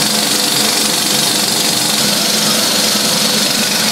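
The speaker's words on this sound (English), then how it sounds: "we've got Cinema Mechanica switch control gear" Cinema Mechanica switch control gear in the original projection room of the ABC Woodford cinema, a steady close mechanical hum and buzz with a constant whirring drone throughout and no voices.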